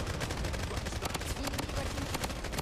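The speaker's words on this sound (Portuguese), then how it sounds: "Atirando sem querer." Accidental gunfire in a shooter video game: a rapid, loud burst of automatic shots fires in quick succession, dense repeated cracks with short gaps throughout, close and prominent, with a faint voice underneath.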